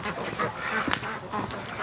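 A few Muscovy ducks give brief, breathy quacks and hisses nearby on a cold winter morning, a short cluster of low calls with no clear speech over them.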